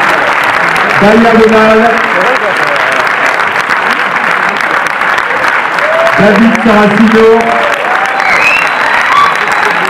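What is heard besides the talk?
audience applauding film cast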